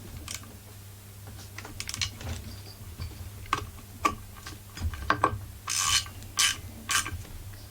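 A part on a Husqvarna 44 chainsaw being tightened during a refurbishment, heard as close, scattered clicks and ratcheting ticks in irregular bursts, growing denser and louder toward the end, with no speech.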